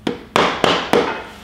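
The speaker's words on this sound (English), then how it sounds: "I'm gonna do some love taps with a rubber mallet" A rubber mallet gives four sharp taps, evenly spaced, seating a flexplate on a 5.7L Hemi engine. Each strike is close and distinct, with a short ringing decay, and no voices are heard.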